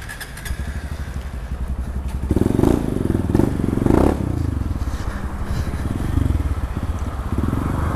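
A new 2019 Honda Titan 160 motorcycle idles with a steady low engine rumble that thickens as it revs slightly, with a few clanks and scrapes close by.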